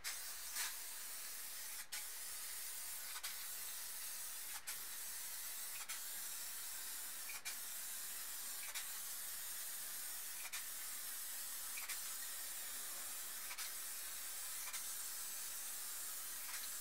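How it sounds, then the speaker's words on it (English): Steady hissing spray from an aerosol can of clear coat over a spray paint artwork, broken by brief pauses roughly every second or so, close and continuous, with no talking. "spray the clear coat from side to side and move up the painting"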